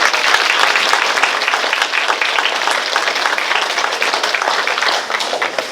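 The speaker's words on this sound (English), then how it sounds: "Another round of applause, please." A large crowd at a sports hall of fame induction banquet applauds steadily and loudly, dense clapping sustained throughout without a break.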